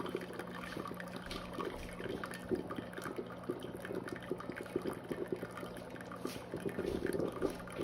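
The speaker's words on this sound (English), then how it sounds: "pour the coffee through and see if there's any remnants in the basket" Brewed coffee pouring through a reusable gold-tone cone filter basket from a Ninja coffee maker, a steady close trickling and splashing of liquid that runs continuously without a break.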